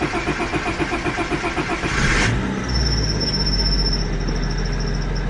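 A car engine cranks with rhythmic churning, catches and roars up in a rev, then settles into a steady idle with a faint high whine, loud and close.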